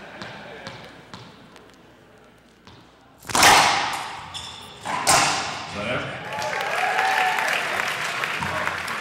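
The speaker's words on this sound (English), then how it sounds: "there you hear the crowd clapping" Crowd at a 2005 US Open racquetball semifinal bursting into clapping after a quiet rally, with a sharp onset and then sustained applause under a commentator's voice and scattered ball and court thuds.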